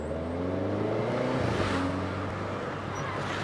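Renault Clio RS engine heard from inside the car, a steady low drone with harmonic engine tones that shift in pitch partway through as it downshifts, with a brief burst of louder rasp in the middle.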